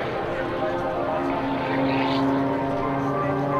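Sean Tucker's aerobatic airplane performs low at an air show, a loud, steady propeller-engine drone that holds throughout, with a slight swell in the middle.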